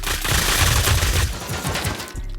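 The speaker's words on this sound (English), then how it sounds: "Let's see what it looks like with 100 nailgun turrets shooting at him." Massed fire from a hundred nail gun auto-turrets in a video game, a loud dense continuous barrage of rapid overlapping shots and thuds that thins out near the end.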